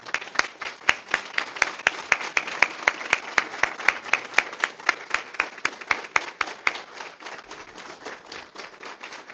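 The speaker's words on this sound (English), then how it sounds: "Please stand and give our recipients a round of applause." Audience applause for award recipients at a Trailblazer Award ceremony: steady, dense clapping from a crowd with sharp individual claps standing out, sustained throughout at moderate loudness.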